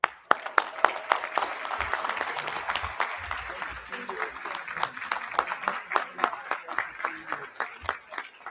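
Audience applauding at a charity gala honoring an award recipient, a dense burst of clapping that starts abruptly, swells, then thins into scattered individual claps.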